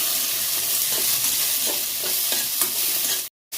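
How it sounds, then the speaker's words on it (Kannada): Tomato and green chili frying in oil on a low flame, a dense, close sizzle with soft stirring scrapes that stops abruptly with a brief gap near the end. "ಸಣ್ಣ ಉರಿಯಲ್ಲಿಟ್ಟು ಟೊಮೆಟೊನ ಹಾಕಿ ಕಾಯಿ ಮೆಣಸು ಹಾಕಿ ಹೀಗೆ ಎಣ್ಣೆಯಲ್ಲಿ ಉರಿ"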